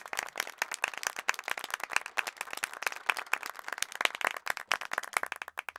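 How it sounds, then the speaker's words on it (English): Scattered applause in a cartoon for kids, dense irregular handclaps from a small audience, close and fairly faint, with no talking. "A round of applause,"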